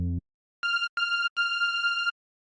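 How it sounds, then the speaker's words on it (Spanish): A supersaw synth in FL Studio Mobile, with filter keyboard tracking switched on, plays a brief low note and then three bright, clean higher notes, the last one held longer, alone with no voice. "es como si el corte del filtro se estuviera moviendo arriba y abajo, dependiendo de la nota que nosotros vamos tocando"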